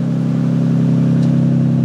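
A Nissan Skyline R34 idles steadily with a deep, even exhaust drone, loud and close, holding a constant low hum for the whole moment with no rev rise.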